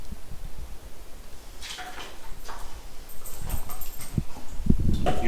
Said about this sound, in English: You crazy dog.